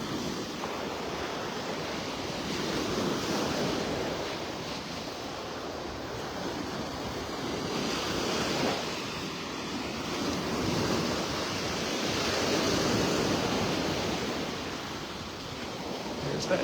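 Ocean surf rolls in on Vanderbilt Beach in North Naples, Florida, on a morning walk, with a continuous wash of breaking waves that swells and ebbs, mixed with soft wind noise.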